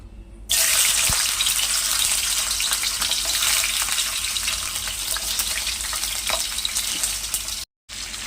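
Chopped ivy gourd drops into hot oil and sizzles loudly in a steady, dense hiss that runs unbroken, with a brief gap near the end.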